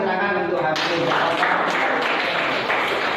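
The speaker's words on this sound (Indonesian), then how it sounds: "Berikan tepuk tangan untuk Hamidin." Classroom applause for a student, dense clapping from a room of students that starts partway through a voice and continues steadily and close by for a few seconds.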